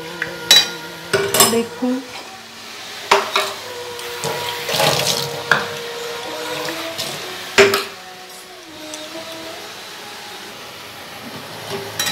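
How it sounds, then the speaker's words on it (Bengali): A shrimp pulao is stirred in a pot with repeated clattering scrapes and knocks of a utensil, irregular and close, followed by water sounds and a short spoken word. "এবার এইটা একটু নাড়াচাড়া করব"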